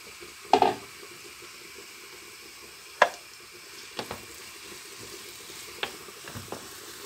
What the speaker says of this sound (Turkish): Biraz soğanı kavuracağız.